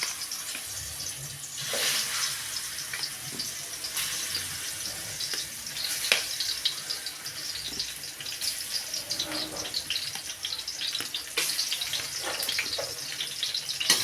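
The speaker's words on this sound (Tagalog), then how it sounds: "Prito ko lang din bagya yan." Banana slices frying in a pan of oil give a steady, dense sizzle and crackle with occasional louder pops, continuous and fairly close, with no talking.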